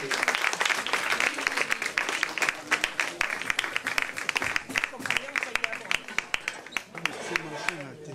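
A café audience applauds the performer Paolo, with sharp clustered hand claps rising and falling in bursts under people talking throughout.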